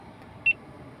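A GoPro sounds a single short, clear electronic beep during its photo self-timer countdown, set against a faint quiet background.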